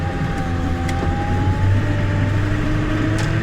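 A 1999 Ford F350 pickup with a 7.3L PowerStroke diesel drives along, its cabin filled with a steady low engine drone and road rumble, a faint whine rising slightly, with no voices.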